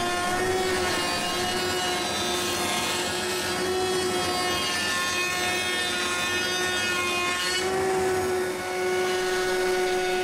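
A Shaper Origin router bit cuts walnut with a steady, loud, high-pitched whine and constant rasping cut noise, close up, running continuously for the whole stretch with a brief dip near the end and no talking.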